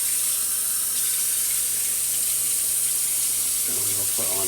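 A kitchen tap runs in a steady, close hiss of water while a steak and rice dinner is being cooked, with some faint clatter near the end.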